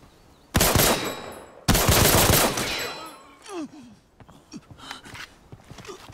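Two loud, sustained bursts of automatic gunfire in the hardcore shooter Dark Zone Breakout, each lasting about a second, followed by quieter scattered shots and footstep-like rustles.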